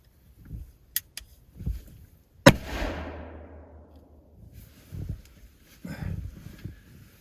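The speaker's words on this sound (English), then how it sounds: "I'm gonna do the traditional unloading of the muzzleloader by letting it fire it off" A muzzleloader rifle fires once into a bank outdoors, a single sharp, loud report with a long rumbling decay, and brief voices are heard before and after it.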